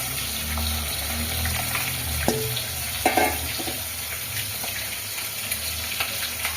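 Water being added to a pot of Kolkata-style ghugni with dried peas and potato, a soft continuous splashing and trickling with a few small clinks, close and steady throughout.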